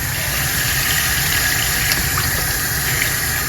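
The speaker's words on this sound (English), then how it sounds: "So I'm running water in." Clean tap water runs steadily into a basin during a rinse of white mesh sneakers, a continuous broadband rushing that holds constant and close throughout with no voices.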